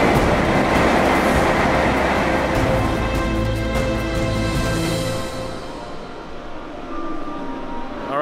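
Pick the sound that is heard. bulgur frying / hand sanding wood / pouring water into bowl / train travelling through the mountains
train travelling through the mountains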